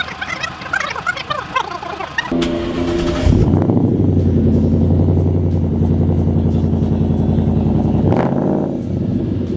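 A car engine cranks and catches, then settles into a loud, rumbling idle with a throaty exhaust note, close by and steady for several seconds.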